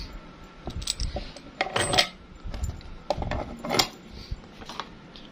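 Metal washers clinking onto nuts and bolts during a hands-on nuts-and-bolts skill test, a series of small close metallic taps and jingles in irregular bursts.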